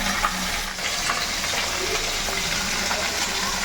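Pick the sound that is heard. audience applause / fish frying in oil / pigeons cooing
fish frying in oil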